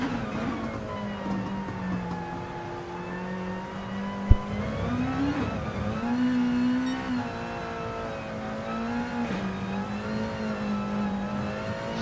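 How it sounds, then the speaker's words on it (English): A race car engine in Gran Turismo Sport on the Ardennes sprint circuit holds a steady high drone, with onboard revs rising and falling through gear changes and one sharp click, close and continuous with no talk. "He's really pushing that car"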